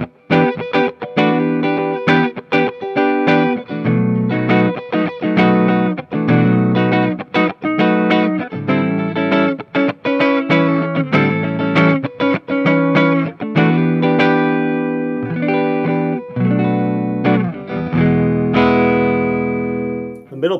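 A 1983 Gibson Crest electric guitar played through its neck pickup with effects, a steady run of plucked notes and chords with a sweet, sustained, chorused tone ringing out clearly and alone.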